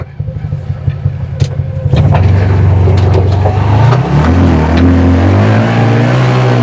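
A CFMOTO off-road vehicle in four-wheel drive low: the engine idles with a loping pulse, then revs up hard and holds a loud, close drone with shifting pitch as it climbs.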